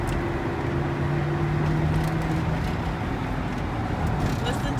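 A GMC Savana passenger van drives along with a steady engine roar and road rumble, a sustained low drone with a few rising tonal whines, heard from inside the cabin.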